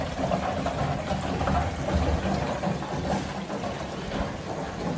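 A pump transfers dielectric fluid from a drum into an immersion cooling tank for X20 crypto miners, producing a continuous, fairly loud mechanical drone with a rough, fluttering texture and no speech.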